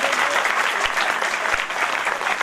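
An audience at a girls' school Mother's Day celebration applauds a mother, a steady, dense wash of clapping from many hands that holds at an even loudness throughout.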